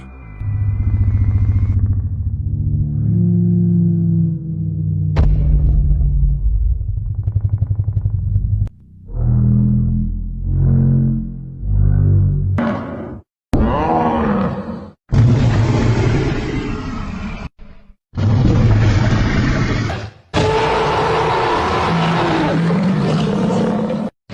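A reconstructed dinosaur sound: a series of deep, rumbling roars and bellowing calls, some long and resonant, others short bursts, loud and close with brief silences between them.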